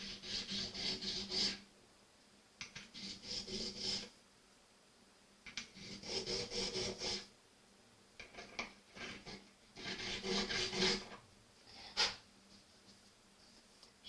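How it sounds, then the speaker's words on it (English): A hand file works the corners off a metal part from a mini lathe being renovated, giving rough rasping strokes in bursts separated by short pauses, close and moderately quiet. "should we take the corners off so we don't end up with a bunch of burrs on there?"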